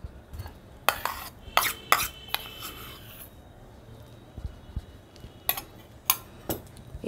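Soaked chia seeds being whisked into a coffee lassi mixture in a bowl, heard as bursts of quick scraping and tapping strokes separated by quieter pauses, close and moderately soft with no speech.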